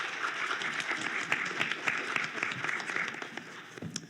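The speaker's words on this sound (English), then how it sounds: "And give me a warm round of applause, please." A conference audience gives a warm round of applause for a panel introduction at a menopause health event. Dense, even clapping fills the whole stretch at moderate distance.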